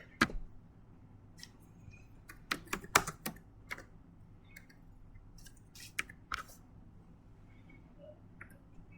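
Code for a C++ solution being typed on a computer keyboard, heard as irregular bursts of crisp key clicks, some sharper and louder, over a quiet room with no talking.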